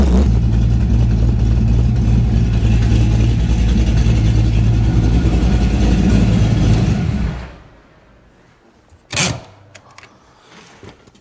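A Pontiac Trans Am with a muffler and header exhaust collector drives with a loud, steady engine drone close by, then the engine cuts off, leaving near quiet with one brief knock.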